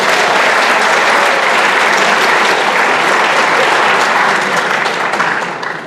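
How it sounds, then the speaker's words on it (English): A sustained round of loud applause at a school academic awards ceremony honoring students, steady and full throughout before tapering slightly at the end. "Let's have one more round of applause for all the students who have earned these honors."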